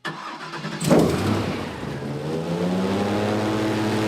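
A boat's engine on the Peace River cranks and catches after a short quiet moment, then settles into a steady mid-pitched idle, close and moderately loud.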